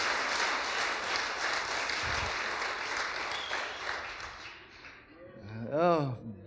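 A church congregation claps steadily for the matriculants at a Sunday evening service, dense sustained applause that fades toward the end, where a voice breaks in over the last of it.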